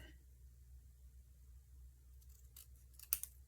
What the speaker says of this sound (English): And I'm going to trim this off.